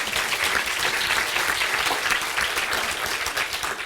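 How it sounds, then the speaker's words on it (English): An audience at a school district's state of education address breaks into dense, steady applause, with many hands clapping evenly throughout and no one speaking. "I want to give our schools a big round of applause for that"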